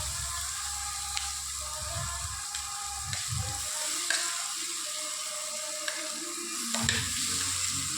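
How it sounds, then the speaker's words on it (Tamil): Chopped vegetables, onion then ash gourd, fry steadily in hot oil with a constant close sizzle, broken by a few light stirring scrapes of a spoon in the pan. "இந்த அளவுக்கு வெட்டினாதாங்க நல்லா எண்ணெயில் வணங்குவோம்"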